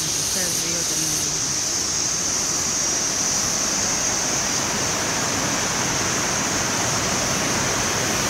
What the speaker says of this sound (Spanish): Este es el río también.